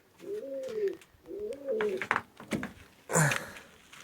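Two drawn-out pigeon coos, soft and rolling, follow one after another, then a brief flutter of other close bird sounds near the end.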